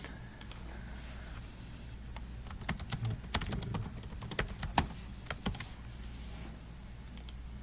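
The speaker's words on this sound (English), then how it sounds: "type out your question" Typing on a computer keyboard, with quiet irregular bursts of key clicks, sparse at first and then quicker, close and soft over a faint room hum.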